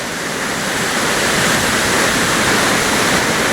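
Water pours over a natural rock dam on Big Three Forks Creek in the Ozark National Forest, a loud, steady, close roar of rushing water with no pauses and no voices.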